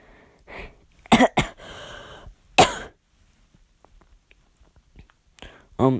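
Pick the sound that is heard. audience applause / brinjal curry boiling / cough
cough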